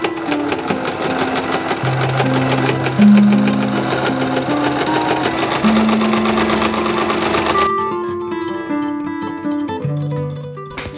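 A sewing machine stitches a French seam on a dress, running loud and steady with a rapid mechanical whir and fast rhythmic needle pulses, shifting in tone and pace partway through.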